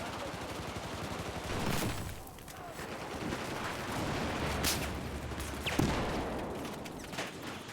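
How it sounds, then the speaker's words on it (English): Gunfire and explosions from Battlefield 4 in a Rush match fill the scene as a dense, continuous battlefield din: rapid automatic fire with occasional sharper blasts and booms standing out. "there's just a lot of random explosions everywhere"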